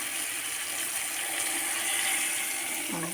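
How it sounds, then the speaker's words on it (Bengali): Water poured into a pan while cooking a dry-style koi (climbing perch) fish dish with tomato, a steady broadband rush of liquid running throughout at close range. "এখন এটাকে জল দিয়ে দেবো।"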